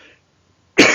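A single loud, close cough bursts out near the end after a short silence, from a man with a lingering cough during a Korean-language financial analysis talk.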